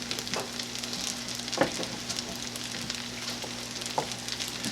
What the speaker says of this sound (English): we're going to let it fry till everything's nice and warm